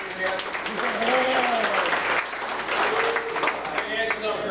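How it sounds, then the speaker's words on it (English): Audience applause at a comedy night show, a steady wash of clapping from a crowd that runs throughout while a performer talks over it. "round of applause for Chris and Kathy"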